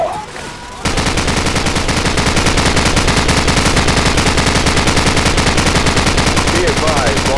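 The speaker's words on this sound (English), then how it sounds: "Jackson, use their machine gun." Sustained machine gun fire in a war video game, a loud, continuous rapid rattle that starts abruptly after a short quieter lead-in and hammers on at an even rhythm to the end.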